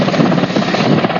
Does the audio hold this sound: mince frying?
no